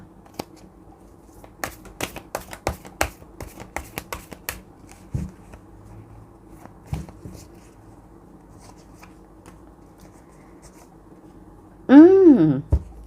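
Tarot cards being shuffled by hand: a series of quick riffling and slapping bursts, close and crisp, thinning out into a few isolated taps, followed by a brief spoken voice at the end.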